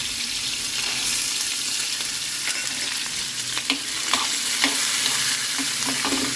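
Peanuts and green chillies fry in a hot pan with a steady sizzle, broken by scraping stirs and light clinks of the spatula against the pan.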